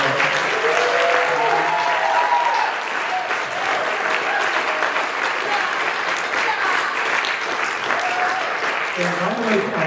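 Sustained audience applause after a recorded theatre performance, dense and steady clapping filling the room for about ten seconds, with a few faint voices and cheers rising through it.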